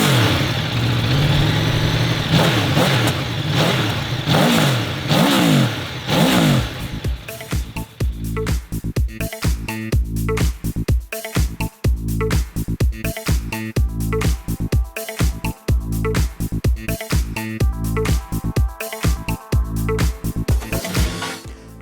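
A 2021 Aprilia Tuono V4 motorcycle on its stock exhaust, loud and close, idling, then blipped in sharp repeated revs that rise and fall in quick bursts with brief gaps.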